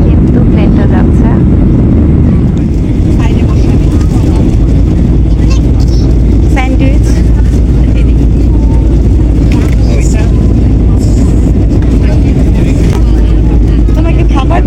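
Interior cabin of a Biman Bangladesh Airlines airplane in flight from Cox's Bazar to Dhaka, with a steady, loud low engine and airflow roar throughout while people talk nearby.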